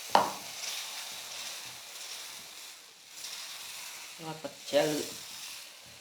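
Dosa batter poured onto a hot pan sizzles with a soft, steady hiss, rising into brighter bursts of frying toward the end, with a few faint clatters and no talking.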